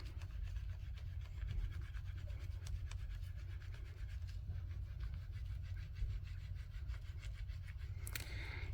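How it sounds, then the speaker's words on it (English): Soap is rubbed evenly during felting, a soft steady close scrubbing and rasping that continues without pause, with a brief sharper scrape near the end. "you keep going around the soap and rubbing the soap evenly so that you avoid that bunching up phenomenon"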